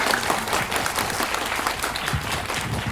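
Audience at a director's class at the 23rd Jeonju International Film Festival breaks into sustained, dense applause, many hands clapping steadily at close range without pause.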